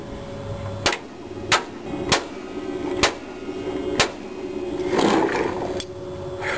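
Sharp metallic hammer strikes on a car front suspension bolt ring out one at a time at irregular intervals, about five blows, close by over a steady mechanical hum.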